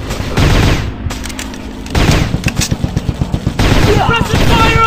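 Rapid automatic gunfire in the shooting video game Commando Strike, loud close bursts of evenly spaced shots with brief pauses between volleys and a game voice calling out near the end.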